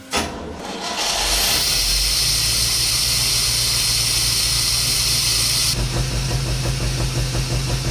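A 1967 International Harvester Scout 800 with fuel injection starts in cold weather around 20 degrees, cranking briefly before catching into a loud, steady running engine with a strong hissing rush, close and without talk.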